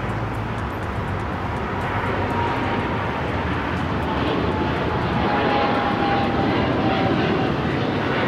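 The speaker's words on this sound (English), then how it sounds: "That is British Airways 282 taking off to London Heathrow" A British Airways Boeing 777-300ER passenger jet taking off at LAX, bound for London Heathrow, with a loud, sustained engine roar that holds steady and slowly builds, heard from the airport's edge without talk.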